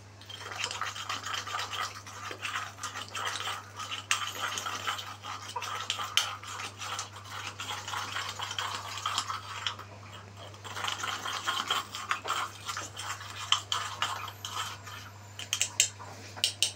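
A spoon works steadily around a cup of white coffee mixture, giving a continuous close scraping and clinking for the whole stretch, with a low steady hum underneath and no talking.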